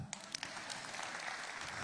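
Brief, soft applause from an audience at a community meeting, a scatter of claps that rises quickly and then settles into a faint patter.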